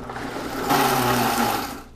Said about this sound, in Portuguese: Eu vou colocar a tampa do liquidificador e a gente vai bater isso aqui